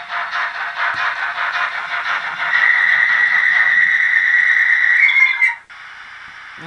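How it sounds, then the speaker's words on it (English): A Bachmann A1 model locomotive's sound decoder plays a rapid chuffing rhythm that turns into a sustained high-pitched brake squeal. The squeal rises and then cuts off abruptly, leaving a steady hiss. "And that's the brake squeal."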